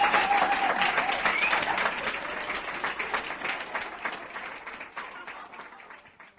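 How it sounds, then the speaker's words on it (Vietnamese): An audience applauds at a partnership signing ceremony for a beauty-industry brand, steady clapping from a crowd that gradually fades out. "chúng ta hãy cùng dành một tràng pháo tay lớn thật nồng nhiệt để cùng chúc mừng cho phần ký kết hợp tác"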